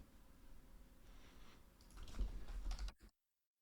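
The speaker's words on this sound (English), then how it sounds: "So I'll just start typing that out." Quick, fairly quiet clatter of keys on a computer keyboard as code is typed, a steady run of soft taps that grows busier near the end before cutting to silence.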